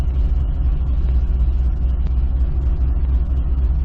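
A 2005 Chevy Corvette engine runs after repairs, holding a steady, loud, close low rumble that sounds like an even idle without revving, and no voices are heard.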